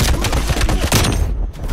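A Stoner light machine gun firing in the video game Call of Duty: Black Ops Cold War: a short, loud, continuous rattle of rapid shots that tails off near the end.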